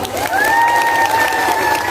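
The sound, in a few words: audience clapping at a religious lecture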